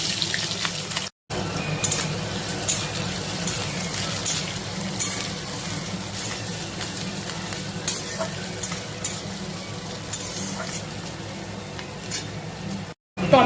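Chopped onion and green chillies frying in hot oil with whole garam masala of cardamom, cinnamon and cloves for a chicken and potato curry, a steady close sizzle with stirring scrapes throughout and two brief cuts.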